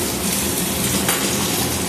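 Taro pieces fry in a pan with a dense, continuous sizzle that stays loud and even throughout the short stretch, without any voices.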